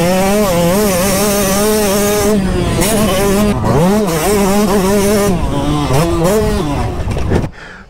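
Yamaha YZ 125 factory two-stroke dirt bike engine warming up, a loud close idle with repeated blips and revs rising and falling throughout, cutting off abruptly near the end.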